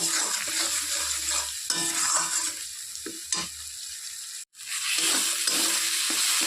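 Spice paste frying in a pan for a bata fish curry gives a steady, close sizzle with stirring and scraping throughout. The sound cuts out for a moment partway through, and no one speaks.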